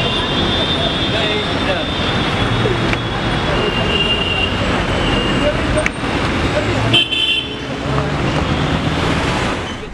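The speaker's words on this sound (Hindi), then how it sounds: "यो यो गाड़ी आ गई है मेरी," Loud, steady roadway traffic in Belapur, Mumbai as a car arrives, with a continuous engine roar and a horn toot, while people talk over it.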